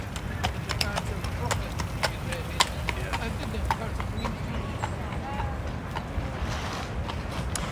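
Horse hooves clip-clop steadily on pavement in New York's Central Park, a quick even rhythm of light strikes at mid-distance over a dense bed of outdoor crowd and traffic noise.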